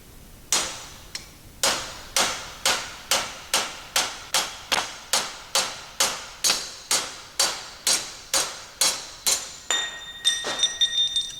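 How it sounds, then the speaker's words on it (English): A hammer strikes a punch repeatedly, about twenty sharp metallic blows at a steady rhythm, driving a drilled-out ball free from a Wilton C2 vise; close and loud, ending in a brief ringing clatter. "now we're going to see if we can kind of punch that through and free up that ball"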